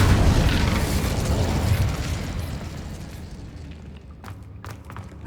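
Incendio fire spell in Hogwarts Legacy, a loud roaring burst of flame right at the start that slowly fades into a rumbling crackle, followed by a few faint clicks.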